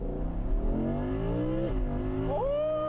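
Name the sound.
car engine revving high under load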